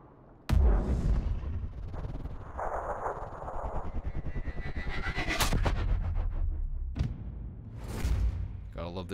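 A turret fires in a video game: a sharp onset followed by sustained rapid repeated shots under continuous talking, with heavy thuds near the end.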